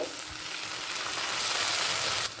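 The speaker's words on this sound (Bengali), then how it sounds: "টমেটোর ওপরের খোসাটাকে ছাড়িয়ে নিয়ে পেঁয়াজের সাথে কষিয়ে নেব" Tomato and onion sautéing with ginger-garlic paste in a pan for a fish curry, giving a steady, dense sizzle that runs close and unbroken throughout, with no voices.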